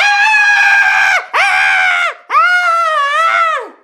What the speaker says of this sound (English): what if Carly and Sam do scream?